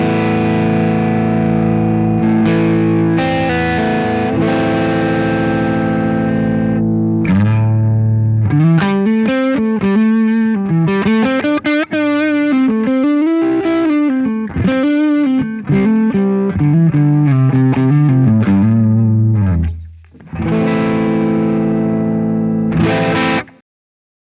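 An electric guitar runs through a Boss BP-1 booster/preamp in RE mode into the first channel of a Wampler Pantheon Deluxe, playing sustained chords and then fast, gritty driven lead lines, loud and alone.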